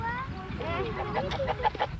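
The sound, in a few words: rooster clucking while being held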